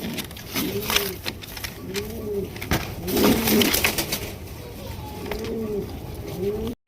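Pigeons coo in repeated rounded phrases at a pigeon farm, several close birds calling one after another over a steady background of shuffling and faint patter.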